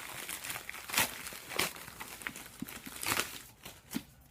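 Sealed paper Norton envelopes are pulled open by hand, with soft, close crinkling and brief tearing rustles in uneven bursts and no voices.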